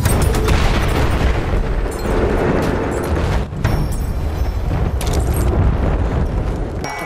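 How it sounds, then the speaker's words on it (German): A grenade explodes in a war video game, a loud booming blast with rumbling debris and a second burst near the end, dense battle noise throughout and no clear talk. "Granate ist raus, Ohren zu!"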